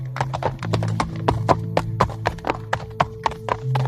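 Hooves of a white horse ridden by a turbaned soldier clip-clop in a steady, even rhythm, close and distinct, with a low hum underneath.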